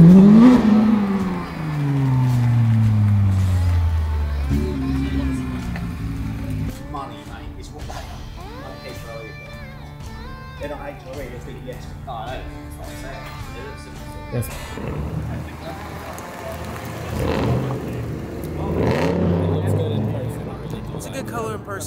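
A manual 2023 Toyota Supra A90 with a fully open Miltech exhaust revs up and drops away in throaty bursts, close and loud, then idles and revs again while people talk over it.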